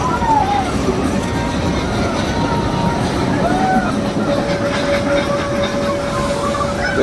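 Mettupalayam to Ooty toy train running on its mountain railway route, a steady continuous rumble of wheels and carriages with faint squealing tones and background chatter throughout.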